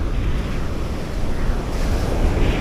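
Steady roar of surf washing onto Marina Beach in Chennai, with wind buffeting the microphone throughout; no voices.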